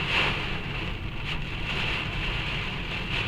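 Rain drums steadily on a car while it drives down a rainy highway, a dense continuous hiss mixed with road and wind noise, heard from inside the cabin with no talking.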